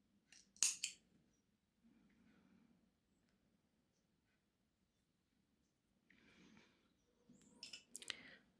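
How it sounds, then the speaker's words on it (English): Scissors snip crochet thread while finishing a doily centerpiece, with one sharp close cut near the start and a cluster of quick clicking snips at the end, separated by near silence. "I'm going to cut my thread here because I'm okay with this size."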